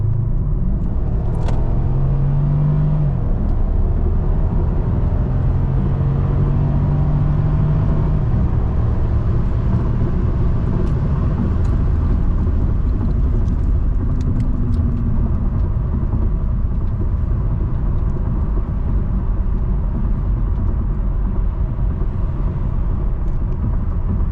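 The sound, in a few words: car accelerating in sport mode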